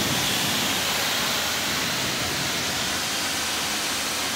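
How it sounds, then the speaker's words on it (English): Water streams in a steady, loud hiss as it runs off the UV-protected paint of a Land Rover Defender, an even wash of sound with no pauses. "As you can see, the water beads up and runs straight off."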